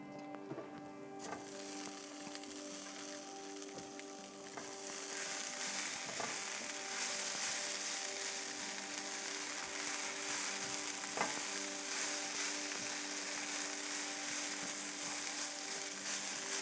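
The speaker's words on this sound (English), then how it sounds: "we're gonna get these in with the potatoes so they can cook a little" Peppers frying with potatoes in a pan for a breakfast scramble, a steady close sizzle that grows louder as they go in, with occasional stirring clicks and no talking.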